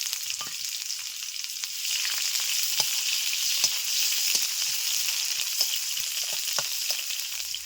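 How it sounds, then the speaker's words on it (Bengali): Whole cumin seeds, a dried red chilli and chopped onion frying in hot oil, giving a steady bright sizzle close by with scattered small pops and a few stirring taps, and no voices. "গোটা সাদা জিরে দিয়ে দিচ্ছি পেঁয়াজ কুচি"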